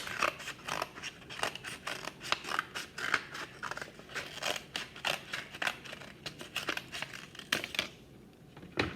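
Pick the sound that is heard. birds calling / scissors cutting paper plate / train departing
scissors cutting paper plate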